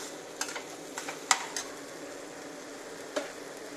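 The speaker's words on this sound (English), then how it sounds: "Do remember to keep stirring while you add these ingredients so that it gets evenly spread out." A spoon scrapes and knocks through pav bhaji ingredients in a home kitchen pan, a few sharp clinks and scrapes over a soft low sizzle, close and otherwise quiet.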